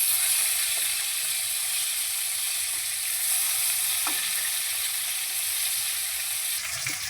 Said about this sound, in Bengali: এবার উল্টে পাল্টে লালচে করে ভেজে নেব।